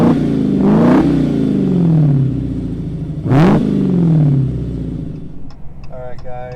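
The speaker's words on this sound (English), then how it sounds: "I'm gonna try to find a place to do a little exhaust clip for you guys" A 2022 Dodge Challenger Hellcat Redeye revs hard twice, each loud exhaust blast climbing and then falling away, before the engine settles to a rumbling idle with a few sharp pops near the end.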